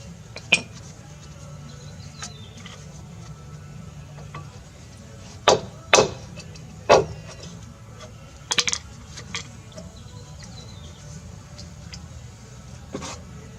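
Old brake pads removed during a brake replacement are handled, producing a handful of sharp metallic clinks and knocks scattered over a low steady hum, close by.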